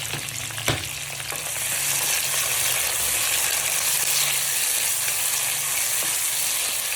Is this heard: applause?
no